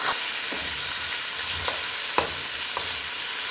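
Salted meat frying in hot oil with a steady, hissing sizzle, broken by a few soft clicks of a utensil stirring the pan.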